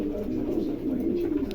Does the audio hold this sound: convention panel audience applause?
no